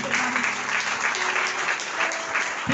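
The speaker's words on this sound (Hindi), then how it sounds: "जोरदार ताली बजा के ठीक है जा।" A congregation at a Christian testimony gathering breaks into loud, continuous clapping, a thick, even burst of many hands with brief tonal traces of voices or music underneath.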